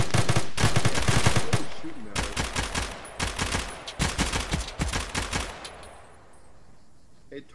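Machine gun fire in the video game Arma comes in several loud, close bursts of rapid automatic shots separated by short pauses, then fades out near the end.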